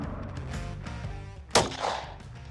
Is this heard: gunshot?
yes